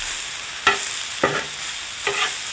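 Fajita ingredients tossed on a 28-inch Blackstone griddle: a loud, steady sizzle punctuated by three spatula scrapes spaced about half a second apart.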